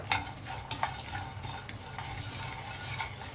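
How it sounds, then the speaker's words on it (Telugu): Coriander seeds and garlic frying in a pan with roasted peanuts, a gentle crackling sizzle with a few light spoon scrapes and taps, close and quiet, no talking. "ఇప్పుడు ధనియాలు వేద్దాం అలాగే వెల్లుల్లి ఇవి కొంచెం వేగనిద్దాము"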